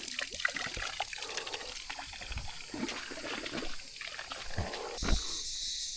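Faint water trickles and runs steadily somewhere nearby along a mountain hiking trail, a soft continuous stream in quiet outdoor surroundings.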